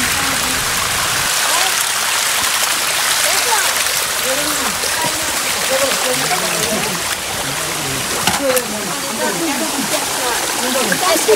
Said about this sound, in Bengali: বেশ সুন্দর ঝর্ণাটি